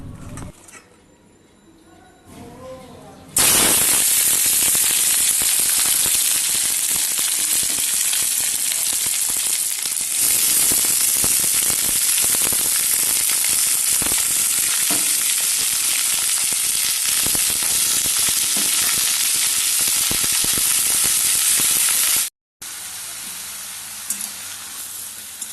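Loud, continuous sizzling of mixed vegetables frying in oil for chochchori, with ridge gourd, cauliflower stalks and onion, close up with stirring, then a sudden cut and a quieter tail.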